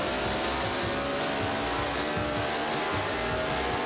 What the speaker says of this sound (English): Love that Team Scream engine.